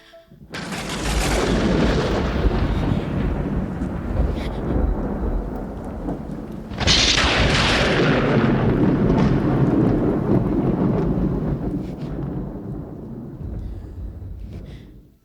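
A thunderstorm with heavy rain, two long rolling thunder peals, the second one cracking in loud and close, then rumbling off over steady, dense rainfall.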